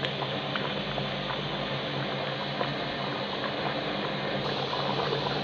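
Rice for biryani boils in a pot of water with a little liquid left, giving a steady, even bubbling hiss at low level, constant and close, with no talk.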